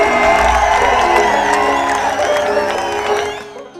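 A crowd claps and cheers loudly at a stage event honouring an artist, with whoops over steady applause and music-like tones beneath, fading out at the end.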